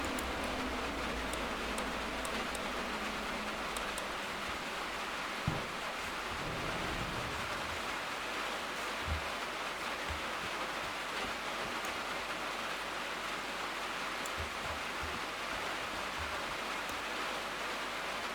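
Rain pouring into a roofed building with missing windows, a dense, steady hiss of falling water that fills the whole stretch evenly, with a few faint low knocks and rumbles underneath.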